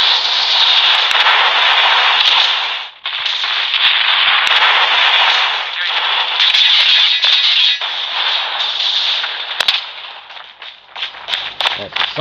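Dense, continuous gunfire from Call of Duty Mobile ground war, sustained loud bursts with brief gaps and a few sharp isolated shots near the end.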